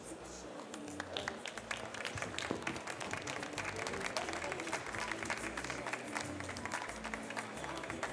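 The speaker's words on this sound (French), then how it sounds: "Une tonne d'applaudissements, messieurs, dames, pour Brigitte" Audience applause at a coffee brewing competition stage, steady crowd clapping filling the room for a barista after her Chemex presentation, dense and continuous at moderate distance.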